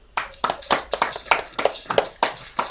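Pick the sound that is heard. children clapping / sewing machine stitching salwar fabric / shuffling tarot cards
children clapping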